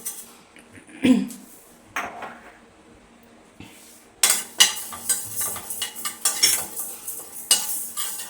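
Fenugreek and cumin seeds roasting in a pan over a low flame: a spoon clinks and scrapes against the metal, sparse at first, then a busy run of rapid stirring knocks and rattles, close and fairly loud.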